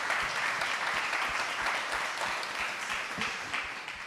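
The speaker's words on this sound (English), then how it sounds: "Another round of applause." Audience applause after a panel talk on psychedelics for leadership development at the Wonderland 2023 conference, a dense, steady wash of many hands clapping that fades slightly toward the end.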